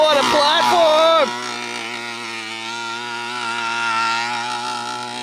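A 49cc gas-powered RC mega truck engine runs with a rough, buzzing roar that surges briefly, then settles into a steady, sustained drone close by.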